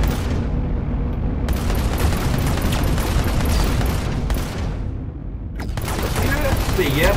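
Gunfire in the VR game Darkfield crackles in dense, continuous bursts with booming impacts, loud and close throughout, while a person talks over it.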